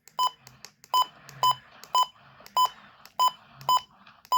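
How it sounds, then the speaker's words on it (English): Loud, sharp electronic button beeps from a WR120 weather radio, about eight separate tones at irregular intervals, each brief and clear, with faint low background noise between them. "Is it just me, or are the button beeps on the 120s loud as hell?"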